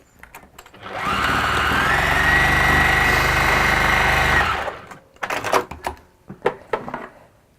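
Sewing machine running steadily on fabric for about three and a half seconds with a droning motor whine, then stopping, followed by scattered clicks and handling noises.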